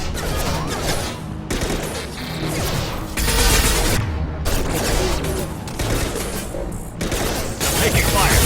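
Heavy gunfire fills a Mass Effect 2 firefight on Insanity difficulty, with bursts of shots, crashes and whooshes running continuously and loud, broken by brief gaps, while combat voices call out over the fight.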